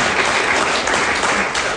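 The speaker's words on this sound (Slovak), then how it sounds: "potlesk pre otca" Audience applause in a Slovak studio show, a dense, steady wash of many hands clapping without pause for the whole short stretch, fairly loud and close.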